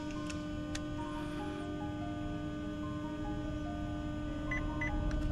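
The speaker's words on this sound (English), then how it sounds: "Until you hear these 2 beeps" Two short electronic beeps from a 2019 Chevy Silverado 1500 chirp quickly in succession near the end, confirming key remote programming, over a steady low hum and faint background tones.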